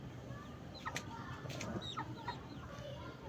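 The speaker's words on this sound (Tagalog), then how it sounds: "Ito naman manok, gusto nila mabidyoan." Chickens cluck and squawk in short, scattered calls over a faint, noisy farmyard background, fairly distant and quiet, with a few sharper cries standing out.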